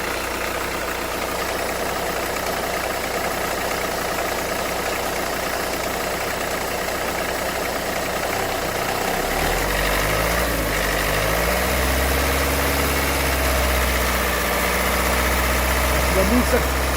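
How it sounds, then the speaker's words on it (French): Diesel car engine fitted with a Delphi injection pump, first idling steadily, then held at a raised, steady rev for the final several seconds, close and loud, with people talking over it. "Donne un petit coup d'accélérateur."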